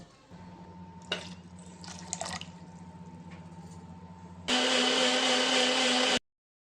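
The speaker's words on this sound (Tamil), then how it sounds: "இந்த ஒரு கப் அளவுள்ள தேங்காய் துருவலை மிக்ஸி ஜாரில் வந்து போட்டுக்கலாம் இப்போ ஒன்றரை கப் அளவுக்கு தண்ணி ஊற்றி அரைக்க போகிறோம்" Water trickles and drips into a mixie jar of grated coconut, then the mixer grinder motor starts with a loud, steady whirring grind for about two seconds before cutting off abruptly.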